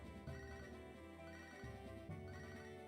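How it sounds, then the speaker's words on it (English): A phone ringtone plays quietly in the background, a repeating melodic electronic ring pattern running throughout, faint and steady. "Let me shut that phone up, because that's going to annoy me."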